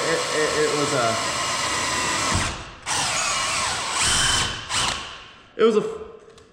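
A power drill whirs in several bursts, starting and stopping with pauses between, loud and close, a final short spin at the end.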